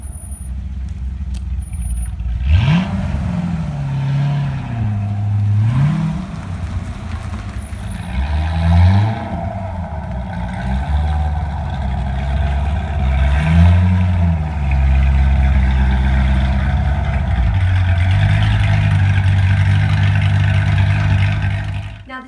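A Corvette C6 Z06 sports car rolls closer with a loud engine rising and falling through several revving swells, ending in a steady idle nearby.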